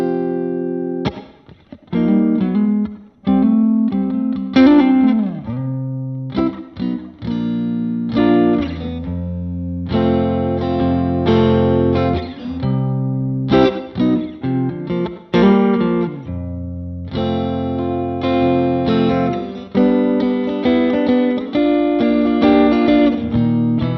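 An electric guitar plays through a Lava Studio amp set with delay and reverb, giving a run of plucked notes and chords with echoing tails and distorted edges that rise and fade in loudness.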